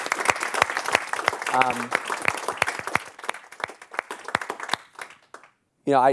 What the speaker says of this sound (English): maybe we can just applaud the folks that have joined